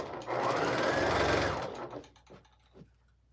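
A sewing machine stitches quilt fabric in one loud, steady burst of about a second and a half, then winds down to a few quiet clicks and handling noises.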